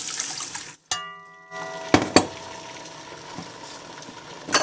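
Water poured into a pot of sautéed garlic for Robillita soup, a short hiss and sizzle followed by a steady bubbling wash with a couple of sharp splashes, close and alone.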